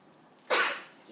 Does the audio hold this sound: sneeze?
yes